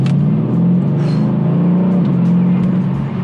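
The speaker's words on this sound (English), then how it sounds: "incredible engine note" A deep, loud Mercedes E63 AMG S engine hums and revs steadily up close, its low growl rising and falling slightly throughout.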